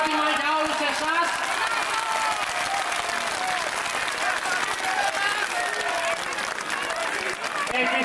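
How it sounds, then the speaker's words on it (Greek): Loud, sustained applause from a large crowd at an outdoor protest rally in Athens, dense clapping filling the whole stretch with some cheering voices mixed in. "Ένα χειροκρότημα για όλους εσάς."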